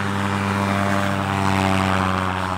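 A homemade paramotor-style airplane's propeller engine drones steadily and loudly throughout, a constant buzzing motor tone with strong harmonics and no talk.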